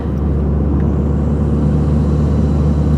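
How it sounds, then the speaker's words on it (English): Diesel truck engine laboring up a long hill in third gear with the turbo spooled, a steady loud low rumble and drone with injector clatter, continuous and close throughout. "Turbo's spooled up. Injectors are clattering."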